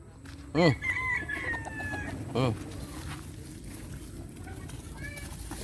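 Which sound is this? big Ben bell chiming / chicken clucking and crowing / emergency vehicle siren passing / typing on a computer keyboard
chicken clucking and crowing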